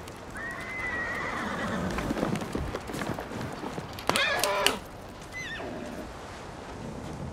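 A horse in the video game Ghost of Tsushima whinnies loudly twice, a long neigh and then a sharper one, over hoofbeats and ambient noise, followed by a short snort.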